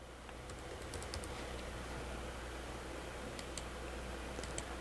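Typing on a computer keyboard, soft scattered key clicks over a steady low hum, fairly faint and near, with no talk.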